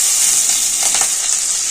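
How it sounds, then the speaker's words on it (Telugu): Cumin and green chillies sizzle in hot ghee, a steady close hiss with a few soft crackles and light stirring over about two seconds. "నెయ్యిలో బాగా జీరా వేయించుకోవాలండి."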